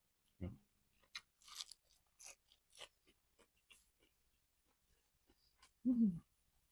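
Crisp, crunchy chewing of fresh raw vegetables eaten with spicy curry and boiled egg, a string of sharp, close bites and chews at an irregular pace, with a louder crunch near the end and a quiet room around it.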